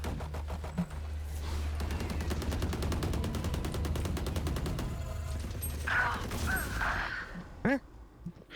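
Rapid automatic gunfire rattles on in the video game Valorant, a dense sustained burst of shots with a steady low hum beneath and a few sharper sounds near the end.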